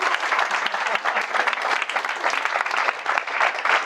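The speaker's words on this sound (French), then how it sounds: "on peut l'applaudir, merci." An audience applauds steadily and fairly close, a dense burst of clapping lasting several seconds with no cheering over it.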